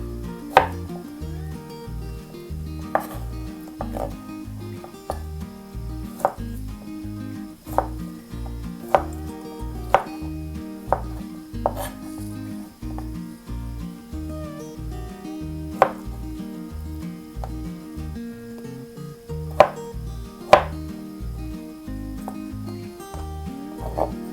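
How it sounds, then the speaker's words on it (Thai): A knife chops boiled taro into cubes on a cutting board, with sharp irregular knocks repeating for over twenty seconds, close and clear against a soft background of music. "ต้มสุกแล้วนั่นแหละ แล้วก็หั่นเป็นลูกเต๋าเลย"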